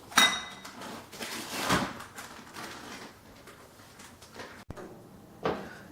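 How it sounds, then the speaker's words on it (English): Knife clinks and scrapes against a plate while sausages are cut, with a few sharp taps and clatters spaced irregularly, close and fairly quiet, no talking. "Now I'm going to cut up my sausages"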